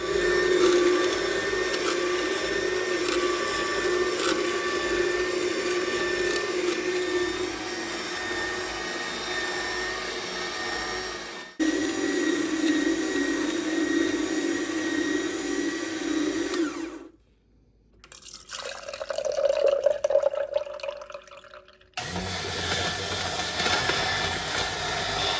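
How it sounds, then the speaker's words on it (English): An AMZChef slow juicer grinds through celery stalks with a steady motor whine and crunching churn, stopping briefly and then resuming. "AMZChef worked well once it got some help pushing the celery stalks down, and it managed to juice through all of them"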